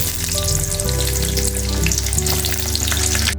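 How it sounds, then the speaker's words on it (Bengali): Chopped onions hit hot oil in a wok for a beef tripe bhuna, producing a loud, continuous sizzle that runs alongside background music. "তেল গরম হয়ে আসলে দিয়ে দিব কুচি করে রাখা পেঁয়াজ"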